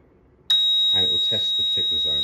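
A CMR Electrical LD4-2V leak detection panel goes into zone test alarm, starting abruptly as a loud, steady, high-pitched continuous tone that someone talks over.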